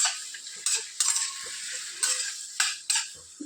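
Tomato pieces are stirred into green chillies frying in a pan, a series of sharp spatula scrapes and clinks against the pan over a soft sizzle, close and without talk.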